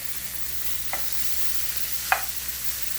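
Pre-cooked food browning in a hot pan, with a steady sizzle running throughout and two brief clicks of a utensil. Nobody speaks.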